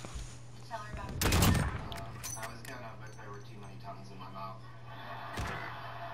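Uzi submachine gun fire in a search-and-destroy video game match, a loud short burst of rapid shots followed by fainter clicks and a later single report, with voices talking around it.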